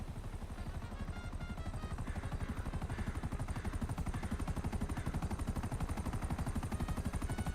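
Steady, rapid thudding of video game helicopter rotor blades, loud and close, continuing without a break and with no voices.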